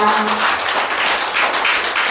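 Applause from an audience at a national poetry recital contest, steady dense clapping filling the room for a couple of seconds.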